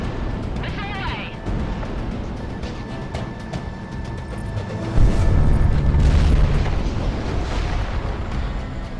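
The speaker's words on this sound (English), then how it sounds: "Missile away!" In the Project Wingman flight game, a missile launches from a jet and strikes a ground unit. A whoosh comes first, then a heavy, booming explosion with rumbling blasts over steady engine noise, and a voice speaks over the action.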